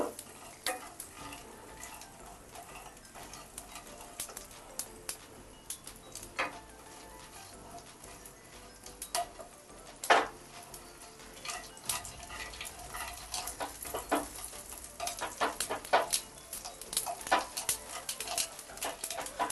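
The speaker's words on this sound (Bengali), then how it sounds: "সর্ষেটা ফুটতে শুরু করে দিয়েছে, হয়ে গেছে ফোড়নটা" Black mustard seeds sputter in hot oil with a few radhuni seeds for a teetar daal tempering, sending faint scattered pops and crackles that grow busier toward the end, with occasional louder snaps and no voices.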